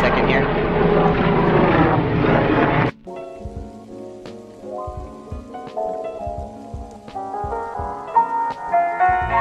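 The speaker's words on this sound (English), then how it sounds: "There's a nice plane. Okay, that's loud." A loud propeller airplane passes overhead outdoors, a broad steady roar for about three seconds that cuts off abruptly, followed by quieter tonal sounds.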